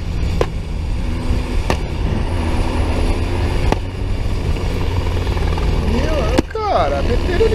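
A helicopter's steady low rotor drone fills the whole stretch, loud and continuous, with a few sharp clicks and a brief burst of gameplay noise near the end while someone talks over it.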